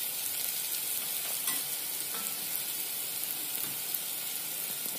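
Maharashtrian masala for Maharani dal sizzles steadily in a pan as turmeric goes in, a continuous close frying crackle with a few faint stirring clicks and no voices.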